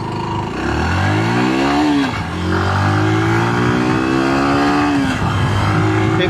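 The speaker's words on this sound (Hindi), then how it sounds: "आपको इसका थोड़ा सा स्पीड टेस्ट करके दिखाता हूँ। को मोड है, देखते हैं कि कितनी स्पीड, कितनी तेजी से भागती है बाइक।" A motorbike accelerating hard in a speed test, its engine note climbing in loud rising sweeps with two gear shifts, recorded close, with no talking.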